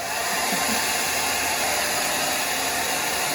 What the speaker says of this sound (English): let's try this because I have a hairdryer